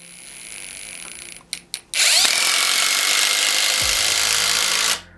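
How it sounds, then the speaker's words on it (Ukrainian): A Dnipro-M DTD 201BC cordless impact driver drives a fastener: a few short spurts from close by, then a loud, steady whirring run lasting about three seconds that cuts off abruptly. "Як я нажимаю, як бачите, гвинтоверт дуже-дуже помало працює"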